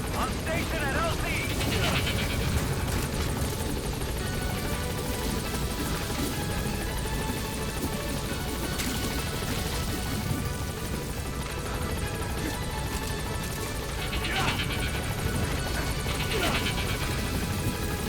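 Support helicopter in Metal Gear Solid V arriving at a landing zone, a steady loud rotor drone and whine filling the whole stretch with no pause, overlaid by faint game noises and brief radio-style voices.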